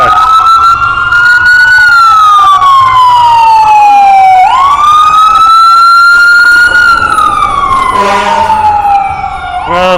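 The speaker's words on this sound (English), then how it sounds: "Oh, it's 2 fire trucks." Two fire trucks cross a city street intersection with sirens wailing loudly and close, long rising and falling sweeps overlapping, with a brief air-horn-like blast near the end.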